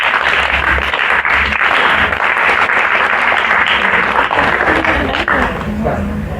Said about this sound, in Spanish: Cada vez que yo levanto la mano, ustedes aplauden.